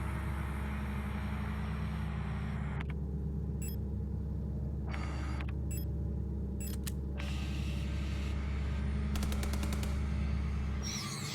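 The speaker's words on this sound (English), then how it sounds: "I tried to get her with the bullets, at least, a little bit." Rapid bursts of gunfire aimed at an enemy in the survival horror game Signalis, sharp shots crackling in quick clusters over a steady low droning hum.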